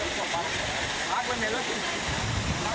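Water gushing from a broken water pipe in a city street, a loud, steady broadband roar and splash that runs the whole time, with faint voices underneath.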